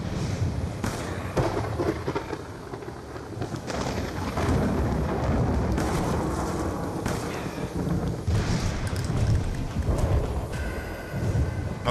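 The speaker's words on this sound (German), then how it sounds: "Jetzt ist er über mir, der Sturm." Thunderstorm in Black Ops 2 Tranzit: loud, continuous rumbling thunder with repeated sharp cracks and booms across the whole stretch, with no talking.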